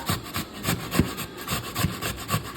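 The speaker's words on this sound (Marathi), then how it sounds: "ही आपण काकडी किसून घेऊया" Cucumber is grated by hand for a traditional Konkan sweet, giving rhythmic rasping strokes about five times a second, close and steady with no talking.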